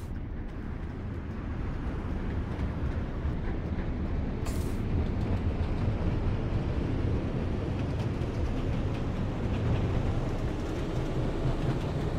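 A tram driving in the OMSI 2 simulator, a steady low rumble of wheels and motor rolling along the track at moderate, even loudness, with a faint brief hiss midway and no voices.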